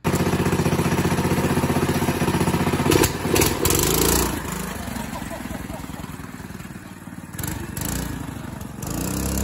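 A go-kart engine with its governor removed runs loudly and close by, its steady drone shifting in pitch as the throttle rises and falls, with a voice speaking briefly over it.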